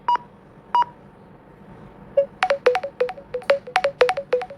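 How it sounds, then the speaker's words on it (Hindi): Processing tone from the SMARTON phone app while it captures an image: two short beeps, then a rapid run of bright, melodic electronic tones repeating steadily, close and clear, with no talking. "जब ये म्यूजिक बज रहा है तो ये प्रोसेस कर रहा है"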